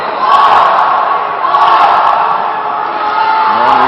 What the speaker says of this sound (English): Here the men's team for Canada cheering on their team, and the Australian men's team responds in kind